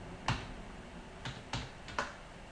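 Computer keyboard keys pressed one at a time, about five sharp clicks spaced irregularly, near and fairly quiet, with no speech.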